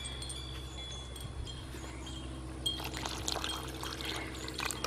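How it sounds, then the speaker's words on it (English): Water pours into a Portland cement and sand mix for repairing an old broken flower pot, a steady close trickle that grows busier and more splashy partway through. "I'm going to put the water in now."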